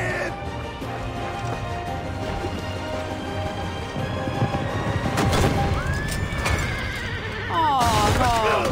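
Horses neigh loudly in the video game Assassin's Creed Revelations over a constant rumbling din, with a shrill whinny midway and a burst of rapid whinnies near the end amid crashing noise.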